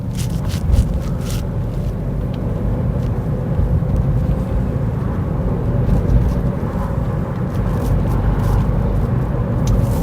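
Steady engine and road rumble from inside a car driving slowly through a village, a continuous loud hum with no talking.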